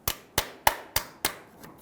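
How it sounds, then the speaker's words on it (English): A hammer drives a small punch into the bottom of an oil filter on a 2000-2007 Ford Focus: five sharp, evenly spaced metallic strikes, close by, with a faint sixth tap at the end. "I'm going to make a small hole in the bottom of the filter using a little punch and a hammer"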